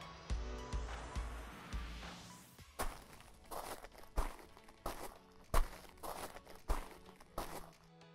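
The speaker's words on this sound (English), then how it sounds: "That was footsteps on gravel." Footsteps crunch on loose gravel in a steady walking rhythm, close and moderately loud, each step a short gritty crunch, with a scraping shuffle at the start.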